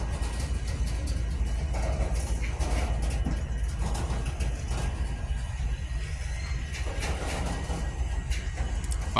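A Norfolk Southern train rolling past on the Harrisburg Division, with a continuous rumble, clattering wheels and occasional metallic clanks sustained close by, with no talking.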